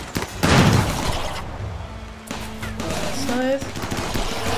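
Automated turrets fire bursts at raiding attackers in the colony game Rimworld, a rattle of rapid gunfire shots with scattered impacts and whines, continuous and fairly loud throughout.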